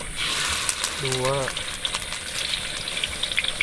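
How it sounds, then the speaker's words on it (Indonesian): Steady crackling sizzle of oil heating in a pot for liwet rice cooked outdoors in a garden, continuous and close, with a brief voice rising over it. "Lebih dahulu kita sirami minyak dulu"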